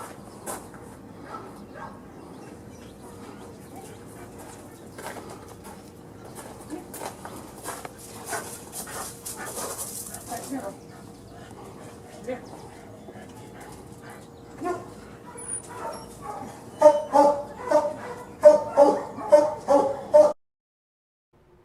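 Dogs in a kennel bark and whimper, scattered at first and then in a louder burst of close, repeated barks near the end, with a brief spoken word.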